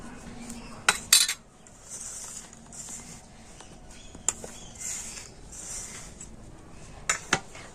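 Dough for doi puli pitha kneaded by hand in a bowl, giving soft squelches and patting, with a few sharp clinks of the bowl along the way.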